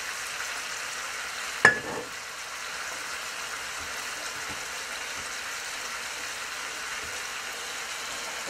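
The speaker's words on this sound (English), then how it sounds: "well, they're sizzling away" Scallops fry in a stovetop pan, giving a steady, close sizzle and crackle that runs the whole time, with one brief sharp clink early on.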